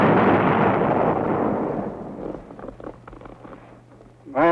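Incoming artillery round exploding in WWII combat, one loud, deep blast that rumbles and fades over a couple of seconds, followed by scattered quieter crackles and a sharp rising sound at the end.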